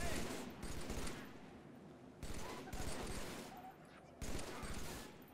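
Bursts of Halo 3 weapon fire come in three sustained volleys separated by short gaps, dense rattling shots that sound fairly close, under faint game noise.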